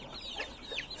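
A yellow-caped rooster gives a couple of quick, faint clucks in one short moment outdoors, alone with no talk.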